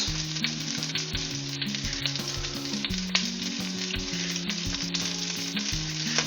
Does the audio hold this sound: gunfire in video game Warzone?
no